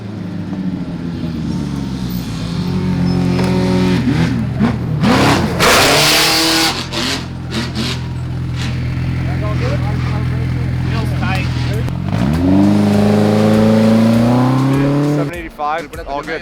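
A UTV race vehicle at the Baja 1000 desert race runs loud and close, its engine droning and revving with rising and falling pitch, with a harsh burst of noise midway and people talking over it.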